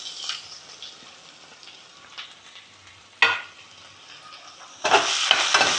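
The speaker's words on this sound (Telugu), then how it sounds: "అవి వేయించుతున్నా." Chopped garlic, green chili and small onion pieces fry in a pan over high flame, a soft steady sizzle broken by a couple of louder stirring bursts, the last one swelling into a strong hiss.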